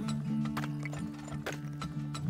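Horse hooves clip-clop steadily in the oil-drilling video game Turmoil, a close, continuous trotting rhythm with a faint whinny-like tone, alone without talk.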